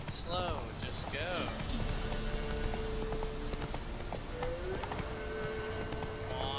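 Galloping horse hooves in the video game Skyrim, a rapid rhythmic clip-clop running continuously at close range, with whinnies and game sounds mixed in, under someone talking.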